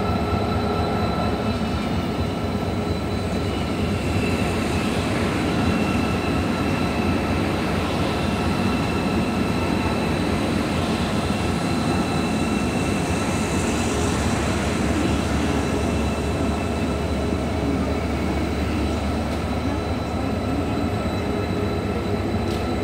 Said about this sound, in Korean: 드디어 KTX 이륜열차가 도착했습니다.